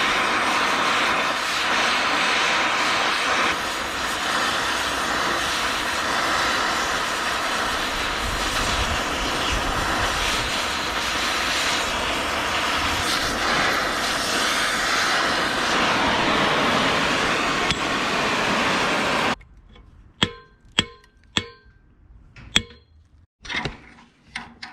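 A Farmall B tractor clutch input shaft being cut through, giving a loud, steady, harsh grinding roar for about nineteen seconds that stops abruptly, followed by a few sharp clinks and knocks.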